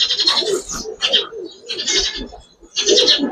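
Pigeons cooing close by, repeated throaty coos and warbling calls in uneven bursts with brief gaps between them.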